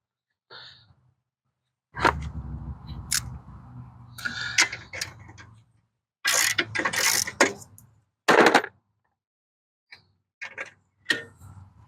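Ratchet wrench clicking in short bursts while loosening a 7/8 axle nut on a 1994 Suzuki Katana motorcycle, close and crisp, with pauses and metallic clatter between strokes.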